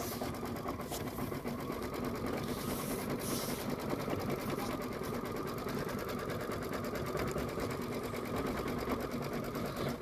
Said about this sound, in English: So it's going to do the satin stitch around the heart.